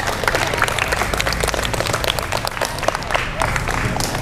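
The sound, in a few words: audience applause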